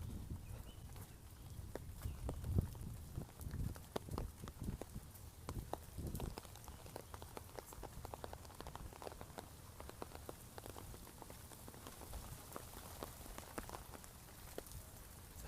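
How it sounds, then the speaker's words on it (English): Steady rain patters on a surface during a storm in foggy Hong Kong, with dense crackling drops and occasional louder splashes running throughout at moderate level, no voices. "It's been on and off rain."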